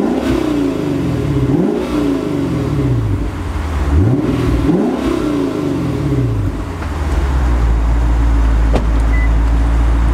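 Lexus GS F V8 revving through its quad exhaust while parked, loud and close, with repeated rising and falling throttle blips over a steady idle and a longer sustained rev near the end, no talk.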